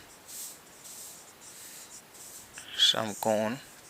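Chalk writing on a classroom board during a maths lesson, faint repeated scratchy strokes in short bursts, with someone speaking near the end.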